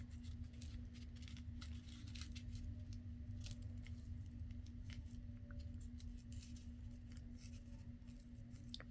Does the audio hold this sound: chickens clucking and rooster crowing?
no